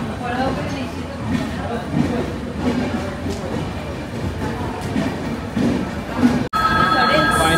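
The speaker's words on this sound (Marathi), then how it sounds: "फायनली आपली ट्रेन आले" The Nethravati Express pulling into a station, a low rolling rumble of railcars with faint clatter under crowd babble and voices, ending in a louder steady hum after a sharp break.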